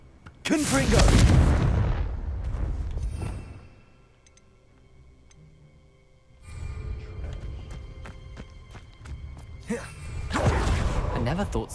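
A Confringo blasting spell explodes in Hogwarts Legacy, a loud booming burst followed by a rumbling tail, with a second blast-like surge after a quieter spell of game sounds.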